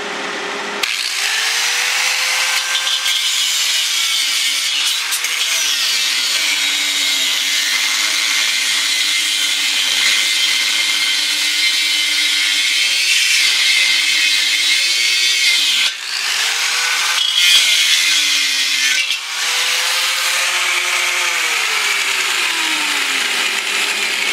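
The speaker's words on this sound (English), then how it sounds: "Now we gotta cut off the valve, everybody's favorite. Let's make some sparks." A power tool cuts the metal valve off a tank during a stove build, throwing sparks: a loud, steady high whine that runs continuously, with a few brief dips and changes in pitch as the cut bites.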